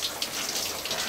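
Shower water runs steadily in a bathroom being fitted out inside a converted school bus, a close, continuous hissing spray with no talk over it.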